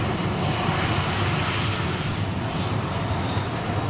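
Jet airliner with CFM56 engines, a dense, loud, steady roar close by that stays even across the few seconds with no voices.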